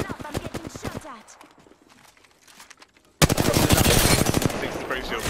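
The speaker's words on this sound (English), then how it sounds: "Listen up, I'm getting shot at." Video game gunfire: a rapid burst of shots, a quieter lull with scattered distant pops, then a loud, dense stretch of continuous automatic fire.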